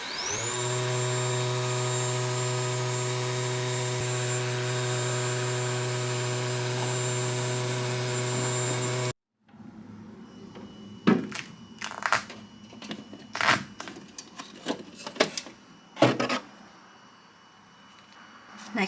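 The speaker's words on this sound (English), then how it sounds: "take our 4 pieces of wood and cut it on the laser machine" An xTool M1 Ultra 20-watt laser machine cutting plywood, starting with a steady loud fan-like whine and hum, then switching to quieter irregular clicks, thumps and rattling movements nearby.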